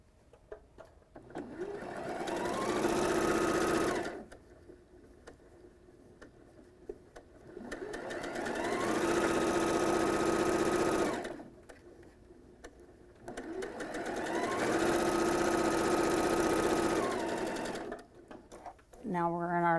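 A sewing machine stitches quilt block units in three long runs of rapid, even whirring, each several seconds long, separated by quiet pauses, with a short mechanical rattle at the end.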